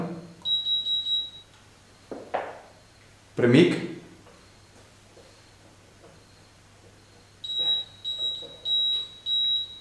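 An electric scooter's security alarm gives bursts of rapid high-pitched beeping at the start and again near the end, separated by a louder rustling thump, with a short spoken word in between.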